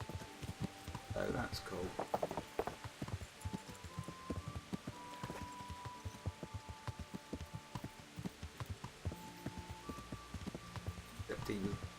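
A horse in the video game Kingdom Come: Deliverance trots along a road, its steady hoof clops rhythmic and continuous under a man's brief remark.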